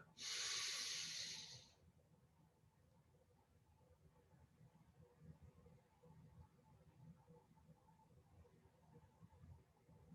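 One deep, loud inhalation during a chanting meditation practice lasts under two seconds, followed by near silence with faint low room noise.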